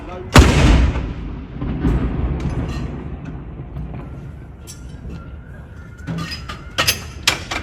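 Royal Artillery ceremonial gun salute at Edinburgh Castle, one heavy boom that rolls and echoes off the surroundings, with shouted firing commands and crowd noise following.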